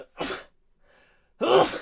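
A single sharp sneeze close by, with a short spoken exclamation just before it in a casual podcast setting, followed by quiet and then another burst of noise.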